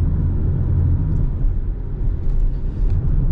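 A Toyota RAV4 hybrid cruises at about 50 km/h with its petrol engine running and EV mode off, giving a continuous, close low rumble and road drone that stays steady with slight swells.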